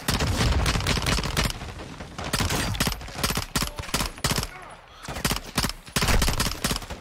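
Rapid, loud gunfire from Call of Duty: Modern Warfare II fills the scene, dense automatic bursts and overlapping shots with only brief lulls, close and continuous throughout.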